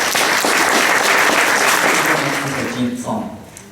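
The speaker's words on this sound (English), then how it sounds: "Please give them a round of applause." A crowd at a plenary session on democracy and transparency claps loudly in sustained applause that gradually thins out, with a voice speaking faintly over the end.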